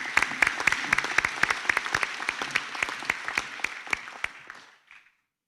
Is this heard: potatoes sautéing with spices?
no